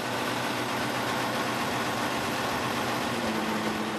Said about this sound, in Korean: 시끄러운 엔진 소리가 이렇게 고마울 수 없다.